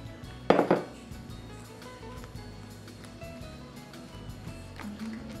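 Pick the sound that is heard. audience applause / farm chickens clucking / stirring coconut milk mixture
stirring coconut milk mixture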